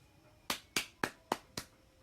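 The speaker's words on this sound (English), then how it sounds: "that's clapping for all our first responders in the hospitals" Five separate claps ring out at an even, unhurried rhythm, fairly distant and faint in an otherwise quiet space, as New York residents clap for hospital first responders.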